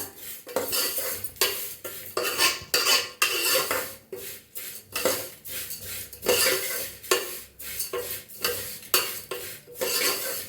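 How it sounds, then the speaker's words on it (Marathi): Kheer ingredients dry-roasting in a pan, loud rhythmic bursts of a metal spoon scraping and clattering against the pan, pausing briefly between strokes, over a faint sizzle. "असं हलवतच भाजा"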